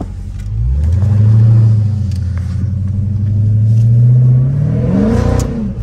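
Dodge Hellcat sliding sideways, its engine revving hard in a deep rumbling surge that dips and rises again, loud and close, with no talk over it.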